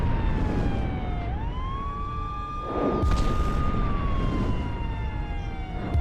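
An air raid siren sound effect wails in a dramatized Bengali detective audio story, a long rising then falling tone held loud and close, with a dull rumbling burst partway through.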